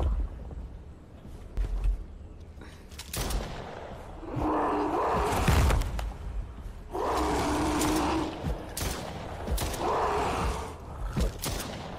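Repeated gunshots crack out while shooting at an enemy in the horror video game Stray Souls, sharp close reports scattered across the clip amid loud, droning bursts of game sound.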